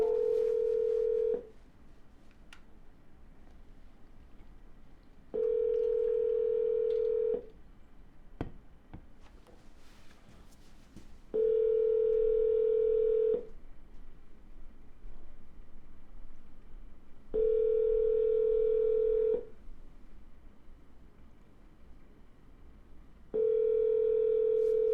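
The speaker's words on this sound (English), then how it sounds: "We're going to double dial, and then we're going to send a text and an email." An outgoing phone call to a seller rings unanswered. Five evenly spaced ringback tones repeat about every six seconds, each lasting around two seconds, over faint line hiss and occasional clicks.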